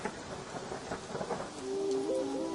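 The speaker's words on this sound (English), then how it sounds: "Big black clouds rolled across the sky, and the thunder shouted" A storm of steady rain with rumbling thunder rolls over a village at night, the wash of rain constant and loud, with a low sustained tone rising near the end.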